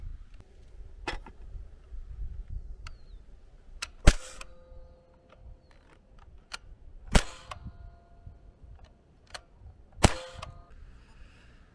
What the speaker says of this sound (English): First, let's look at it over the chronograph and check how fast it's firing these BBs out.